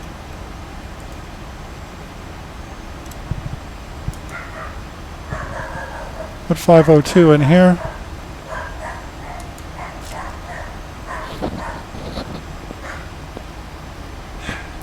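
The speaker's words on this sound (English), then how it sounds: "I don't know if you can hear the dog barking, but it's pretty loud." A dog barks loudly nearby in a short, rapid burst of yips and barks, heard behind aviation cockpit talk during an approach briefing. A person speaks briefly.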